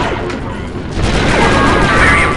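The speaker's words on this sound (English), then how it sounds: "Now lob the grenades at that gun position." Thermal detonator grenades exploding at an enemy gun position in the Star Wars Republic Commando video game, a dense, loud burst of blasts and crashing debris that swells and keeps rumbling, with no talk over it.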